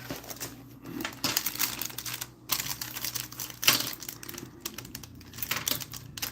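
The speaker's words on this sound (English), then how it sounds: "I just want to move my keyboard out of the way" A computer keyboard is slid aside on a desk in a home kitchen, giving close, soft clattering knocks and scrapes in uneven bursts, with no talking.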